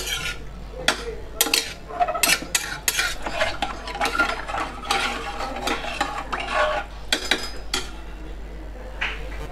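A spoon stirs thin dal khichdi in a metal pot, with irregular scraping clinks and knocks against the sides, close up and fairly busy, over a low steady hum, no voices.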